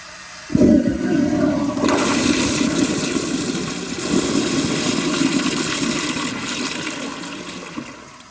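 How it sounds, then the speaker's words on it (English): A 1997 Kohler Highcliff siphon-jet toilet flushed up close, a sudden loud rush of water that roars steadily for several seconds, swelling again as a second flush is triggered, then tapering toward the end. "Let me do a closer up flush. Y'all can see the siphon jet in action."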